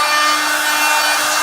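Wood being sanded with a sanding head attachment on a power tool, a loud, steady abrasive whir and rasp that runs unbroken and close, with no voices.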